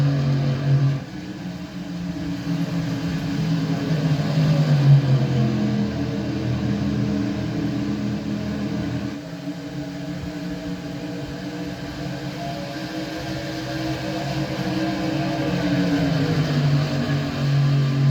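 Pickup race trucks lap Pocono's tricky triangle, engines droning loudly and continuously, pitch rising and falling through throttle changes, with no talking.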